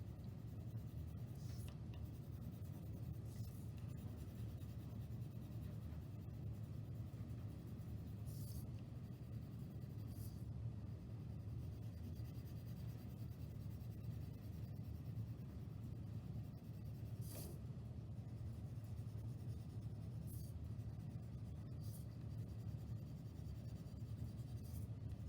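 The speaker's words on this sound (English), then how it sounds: "I like using the side of the pencil because it increases the surface area of the lead that touches the paper" Graphite pencil shading with the side of the lead on paper, a continuous soft scratchy rasp with occasional brief louder strokes, faint and steady over a low background rumble.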